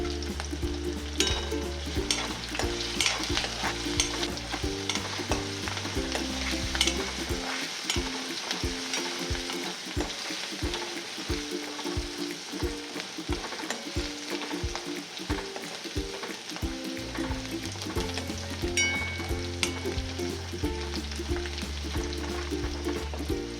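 Crushed garlic and green chilies fry in hot oil, giving a steady, close sizzle that runs throughout with occasional stirring clinks and a faint rhythmic thumping in the background.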